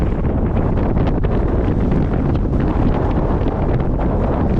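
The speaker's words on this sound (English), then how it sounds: "It's really windy." Heavy wind roars and blusters against the microphone near the summit of a Scottish mountain, loud and unbroken, with rumbling low gusts filling the whole stretch.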